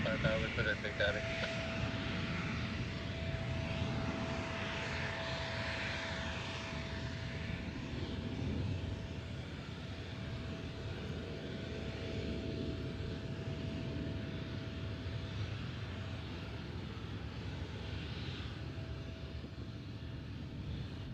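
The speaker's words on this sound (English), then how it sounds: "there goes your 757 through the trees on his way to Indy 500 territory" A Boeing 757 jet departing Nashville airport gives a faint, distant engine roar that is strongest early and slowly fades, with a thin steady tone running through and speech over it.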